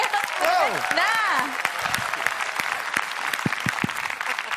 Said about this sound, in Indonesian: Langsung kasih tepuk tangan yang meriah dong.